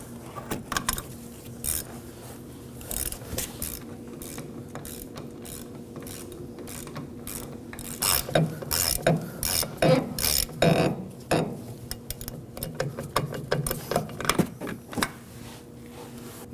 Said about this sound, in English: Now we can go ahead and snug the top nut.